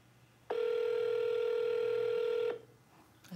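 A telephone line tone during a call sounds as one steady, loud electronic ring held for about two seconds, clean and alone, then cuts off abruptly.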